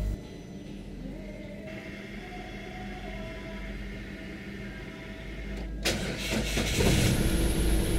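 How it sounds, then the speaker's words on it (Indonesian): A car engine cranks sluggishly after a battery replacement, grinding low and heavy for several seconds before catching and rising into a louder running roar near the end, heard close with no talk. "Nyala ya, walaupun terdengar startnya itu kerasa berat banget ya"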